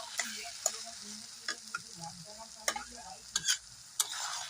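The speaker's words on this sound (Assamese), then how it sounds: "এনেকৈ কম জুইতে ভাজি দিছোঁ চব্জিখিনি" Gentle, steady sizzling of vegetables frying on a low flame in a pan without added water, broken by several sharp clinks and scrapes of a spoon stirring, with no voices.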